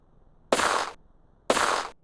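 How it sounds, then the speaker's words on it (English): Two sharp, loud video game gunshots about a second apart, each trailing into a brief noisy burst, close by with quiet between them. "Several gunshots ring out close by."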